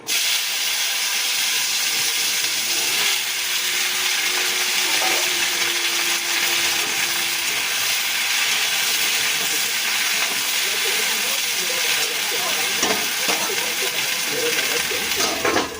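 An electric mixer grinder grinds mustard seeds in a loud, continuous whirring roar that holds evenly without a break for about sixteen seconds.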